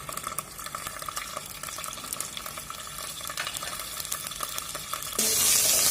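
Fresh curry leaves, ginger garlic paste and green chilies crackle and sizzle in hot oil for Maharashtrian stuffed brinjals, a continuous close spitting hiss with stirring scrapes that swells into a louder burst near the end.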